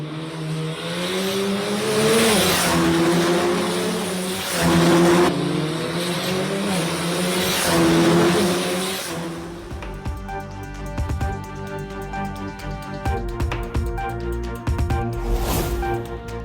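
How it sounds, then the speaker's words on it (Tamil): Formula 4 race cars scream past during a qualifying round in Chennai, engines rising and falling in loud high-pitched waves as several cars speed by, followed by a denser, rougher mix of revving engines and track noise. "சென்னையில் 2ஆம் நாளாக நடைபெற்று வரும் ஃபார்முலா 4 பந்தயத்தின் தகுதிச் சுற்று தொடங்கியது. சீறி பாயும் கார்களை கண்டு சிலிர்த்து போன பார்வையாளர்கள்"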